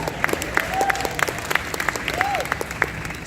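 Audience applause at a live talk event, a steady patter of claps rising and falling for a few seconds, with scattered louder hand claps and a faint background voice.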